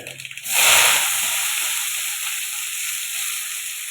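Spinach hits a hot pan with chillies and bursts into a loud hissing sizzle after a brief quiet moment, then settles into a steady, slightly fading fry.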